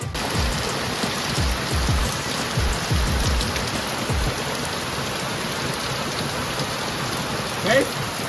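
Steady rain pours down outdoors near a pool, a loud, continuous patter of drops on surfaces with no voices over it.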